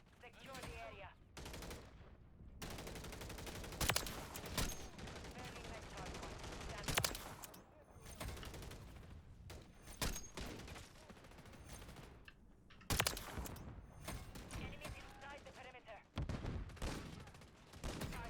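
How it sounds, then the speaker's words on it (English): Gunfire in a video game during a livestream: long bursts of rapid automatic shooting and fusillades, loud and dense, stopping and starting over the whole stretch, with brief pauses between volleys and occasional talk beneath. "Who's shooting me?"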